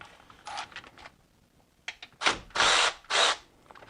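A power tool loosens 13 mm bolts on a BMW M62TU V8 engine, with several short whirring bursts, the last two longer and louder, close up with brief pauses between them.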